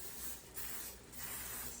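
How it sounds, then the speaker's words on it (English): Nonstick cooking spray hisses from a can onto a baking pan in three short, fairly quiet bursts. "you can use some nonstick spray and just spray your pan up"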